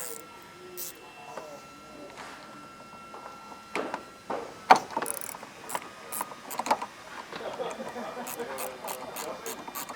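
A ratchet wrench loosens a 14mm seatbelt bolt inside a Subaru Forester cabin, giving sharp clicking pawl bursts in quick runs, close to the microphone with some handling noise.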